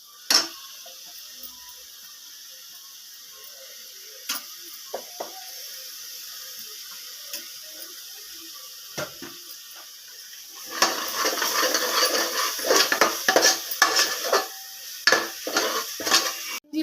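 Ginger-garlic paste frying with onions in a pan for mutton and drumstick curry: a quiet start with scattered clicks, then about six seconds of busy clattering stirring and sizzling close by.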